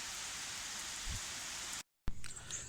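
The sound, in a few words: rain falling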